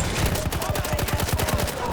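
Rapid automatic gunfire from the video game Battlefield 1, a fast, regular burst of sharp shots continuing for about two seconds.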